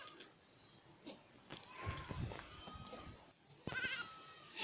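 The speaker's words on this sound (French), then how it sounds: "des chèvres qui sont revenues," Goats on a farm, a few bleats and rustling at close range, with a louder bleat near the end over faint background noise.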